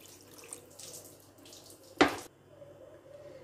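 Water is poured into fish curry masala in a pan while making fish and okra kara kulambu, heard as a short, close splashing gush in the middle of a quiet kitchen background.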